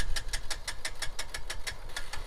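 A car engine runs with a rapid, regular pulsing beat, loud and close, with no voices over it.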